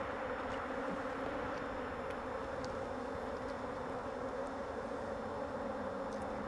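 Honey bees at an open hive make a dense, continuous buzz with a steady hum and occasional closer individual passes, moderately quiet and with no voices.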